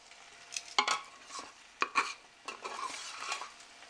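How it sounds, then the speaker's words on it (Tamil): Soft pongal rice being worked with ghee in a pot over a low flame: faint, intermittent scrapes and knocks of a ladle against the vessel, a few sharper clinks standing out over a quiet background. "ஸோ இப்போ மிச்சம் வச்சுருக்க பொங்கலையும் எடுத்து நல்லா நம்ம இதில் கிண்டணும்"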